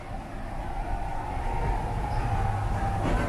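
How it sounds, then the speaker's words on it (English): The Disneyland monorail gives a steady, close, loud low rumble and roar as it passes, continuous and without speech over it. "You see the monorail has Mickey's through the years."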